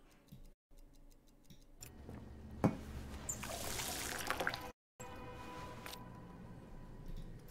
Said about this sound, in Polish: A ja sobie naleję też wody